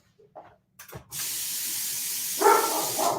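Water sprays steadily from a hose outdoors, a sustained loud hiss that swells stronger near the end, preceded by a few brief knocks and a faint bark.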